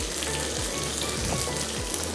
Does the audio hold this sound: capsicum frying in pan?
yes